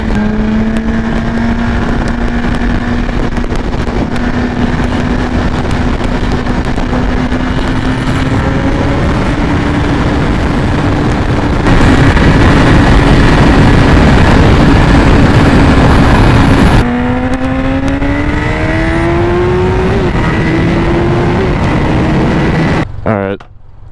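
Loud, constant rushing wind roar while riding a BMW S1000RR motorcycle, with the engine note rising and falling through gear changes underneath, the wind dominating throughout and cutting off abruptly at the end.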